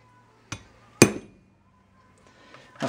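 A hammer strikes a steel drift to drive out a worn kingpin on a Datsun truck: two sharp metallic blows about half a second apart, the second louder, then a quiet pause and a third knock at the end.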